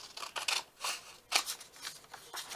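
Several crisp snips of scissors cutting paper, each a short bright rasp, quiet and close, spaced unevenly with one louder cut near the middle.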